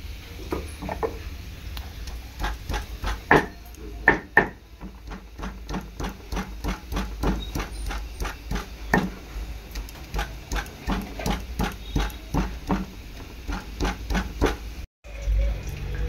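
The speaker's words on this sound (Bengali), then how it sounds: "আজকে কিন্তু আমি শিলে বেটে আদা রসুন দেব, শিলেতেই পেস্ট করবো, মানে শিলেতে বাটবো মশলা" Ginger and garlic are crushed into a paste on a flat stone slab (shil), giving a steady run of sharp, rhythmic grinding strokes, close and moderately loud, with a brief pause near the end.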